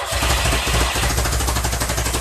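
A Seven16 kit car's engine on twin Weber carburettors fires up and runs roughly, a loud, close, uneven throb with irregular pops and bangs throughout.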